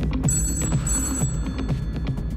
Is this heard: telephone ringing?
yes